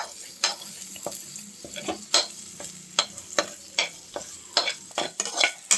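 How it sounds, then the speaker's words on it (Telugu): Onions fry in a hot pan with a continuous sizzle, broken by regular scraping stirs that come close and loud every half second or so. "ఉల్లిపాయలు వేసుకోవాలి. ఇలా ఫ్రై అవ్వనివ్వాలి."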